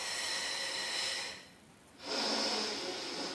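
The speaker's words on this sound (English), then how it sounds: "Lovely big exhale for me." A big breathy exhale during a cushion Pilates exercise, a long airy breath that fades, pauses briefly, then a second strong breath out.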